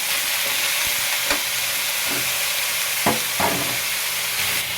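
Squash being sautéed in a hot pan for ginataang kalabasa: a constant loud sizzle broken by a few sharp knocks and scrapes of a spatula against the pan.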